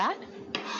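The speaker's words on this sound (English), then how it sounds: "that's the sound of someone at Papa Murphy's using fresh ingredients to make your pizza" A brief clink and scrape of kitchen utensils against pans, quick and fairly soft.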